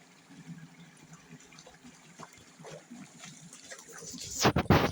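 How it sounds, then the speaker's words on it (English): Water pours and splashes at the end of a quiet stretch, like jugs being emptied into a toilet bowl, heard outdoors during a rock-hunting outing. Faint trickling comes first, then a louder gush close by. "It sounds like when you're filling up the toilet when it's like not running water and you're dumping in the jugs."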